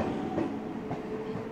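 A local train passes on the Sealdah–Barasat line near Barasat, a low steady rumble with faint wheel clatter, moderately distant and unbroken.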